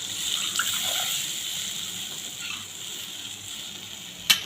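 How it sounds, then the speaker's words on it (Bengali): Water poured into fried spice masala in a cooking pan for a pointed gourd (potol) curry, a steady close hiss and gush of sizzling liquid with no voices, ending in a sharp knock. "এবার এখানে জল দিয়ে দেবো।"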